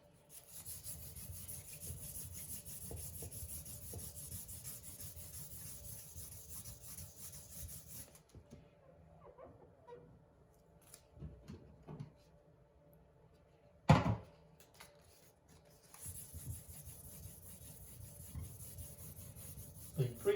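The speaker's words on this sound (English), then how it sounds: "The 3000 grit sandpaper I'm using is less aggressive as the 2000 grit that came with the kit" A tub chip repair is wet-sanded with 3000 grit sandpaper in two long stretches of soft, steady back-and-forth rubbing, close and quiet, separated by a pause holding a few faint taps and one sharp knock.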